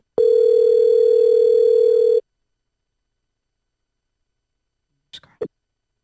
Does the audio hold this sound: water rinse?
no